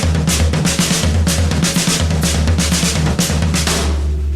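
A fast crossover pattern on a drum set, right hand crossing over the left: dense, rapid hits on toms and cymbals in a loud, driving, continuous groove.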